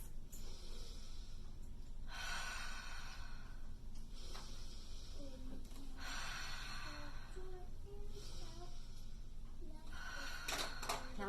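Slow, deep breathing in a kids' yoga class for ages three to six, four long hissing breaths spaced a couple of seconds apart over soft background hum, with faint tonal sounds between.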